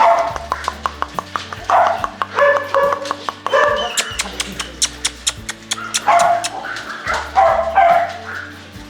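Dogs at a kennel of Pomeranians and German Shorthaired Pointers bark repeatedly in sharp, close bursts, with some yips and whimpers mixed in, while people talk between the barks.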